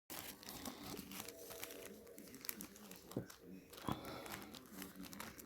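Material being cut into squares for a chocolate pop bouquet: continuous close crinkling and tearing, with a couple of sharper snips.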